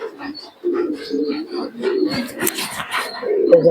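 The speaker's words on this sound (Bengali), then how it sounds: "এখানে একটা কবুতর বাচ্চা আছে" Pigeons in a breeding loft with chicks and sitting birds coo in a series of low, throaty calls, close by, with chirps and some faint background voices mixed in.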